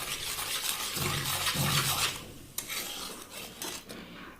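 Salt being stirred into oil for an Assamese bogori pickle, heard as a spoon scraping and rubbing against a metal pot, a steady gritty rasp that fades partway through and is followed by a few scattered clinks.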